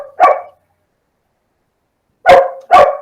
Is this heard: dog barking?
yes